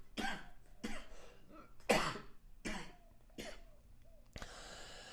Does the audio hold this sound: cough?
yes